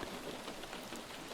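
Soft, steady rain falls through the night, a gentle continuous hiss with no voices over it.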